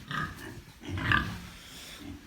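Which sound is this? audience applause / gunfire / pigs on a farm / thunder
pigs on a farm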